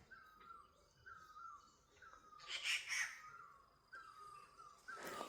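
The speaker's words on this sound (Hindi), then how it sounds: "जहाँ ना पक्षियों की आवाज़ सुनाई दे रही हो, मतलब एकदम शांत वातावरण" Faint birds call in a quiet, dense mountain forest in Nepal, repeating a short whistled note at a steady pace. Brief rustling bursts break in now and then.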